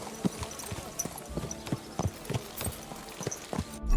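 Horse hooves clip-clop at a steady walking pace in the medieval game Kingdom Come: Deliverance II, close and moderately loud, with regular hoof strikes and a soft background bed.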